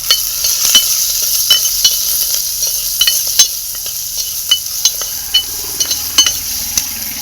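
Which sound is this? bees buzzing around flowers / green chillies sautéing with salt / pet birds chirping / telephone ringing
green chillies sautéing with salt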